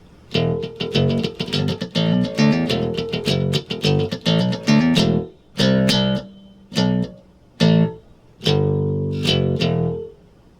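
Bass guitar playing a short music break, a run of quick plucked notes followed by separated, sustained phrases with gaps of silence between them.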